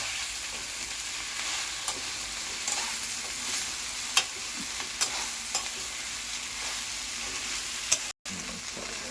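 Idli pieces fry in a pan with a constant gentle sizzle, and a spoon stirring them gives repeated sharp scrapes and taps. A brief dropout comes near the end.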